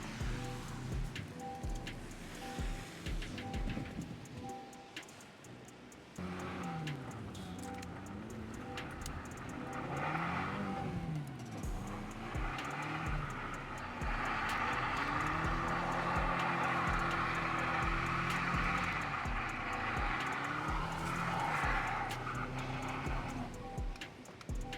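Pickup truck driving through a heavy New York snowstorm with traction control switched off, a steady engine and tire drone with shifting tones and a wet, hissing wash of snow underneath throughout.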